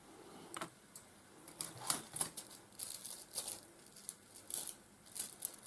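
Scissors snip through rhinestone trim in a quiet craft setting, a series of short, crisp cuts and crinkles at an uneven rhythm, close and moderately faint with no talk.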